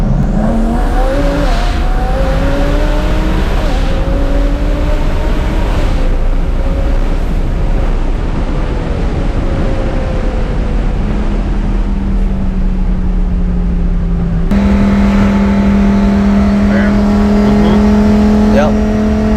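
A 1200 hp twin-turbo Lamborghini Huracan accelerates hard, its loud engine climbing through the gears in rising sweeps, with a sharp jump in pitch and volume near the end; voices are faintly audible.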